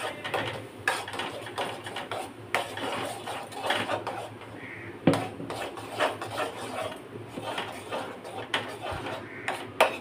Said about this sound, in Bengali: আমি একটা ননস্টিক তাওয়ায় করে আমটাকে একটু ঘন করে নেব, যাতে সুন্দরভাবে একটা হয়। নাড়িয়ে নাড়িয়ে ঘন করে নেব।